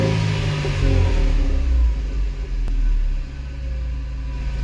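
A car engine idles and revs just after its ignition cables were replaced, a loud, close, deep rumble that swells and eases steadily with no speech.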